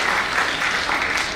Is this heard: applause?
yes